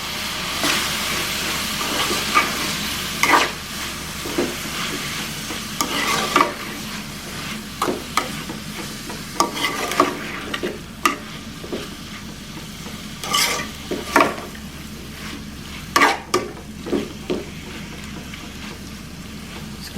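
Bean curry with tomatoes simmers and sizzles in a pan under a steady hiss, with scattered sharp scrapes and clinks from stirring that come more often toward the end, close and alone.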